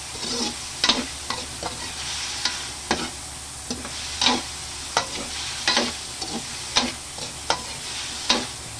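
Igado, pork and liver, frying in a pan while it is stirred, with regular scraping spoon strokes about once per second over a steady low sizzle. No talking.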